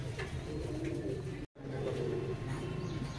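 Teddy pigeons, Salara Teddy females offered for sale, coo in soft repeated low calls over steady background noise, with a brief gap in the middle.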